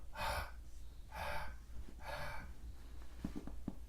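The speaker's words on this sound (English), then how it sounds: "we take a very quick inhale, like that, and then we step our exhale" A person demonstrates a quick fearful inhale during breathing instruction: three sharp, breathy gasps in steady rhythm, close and clear, followed by a few soft clicks, no talk.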